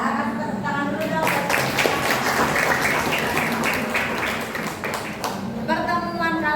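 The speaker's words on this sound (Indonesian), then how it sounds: "Kasih tepuk tangan dulu dong." Schoolchildren in a classroom clapping together, a dense burst of applause lasting several seconds, with a teacher's voice before and after.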